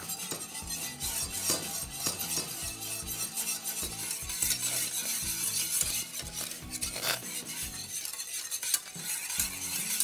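A spoon stirs milk and sugar boiling in a saucepan for pudding, giving irregular scraping and light metallic clinks against the pan over a soft bubbling sizzle, close and fairly quiet, with no talking.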